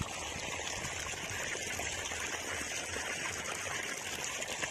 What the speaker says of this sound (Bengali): দেখে বুঝতে পারছো তো, এই যে মোটরে জল।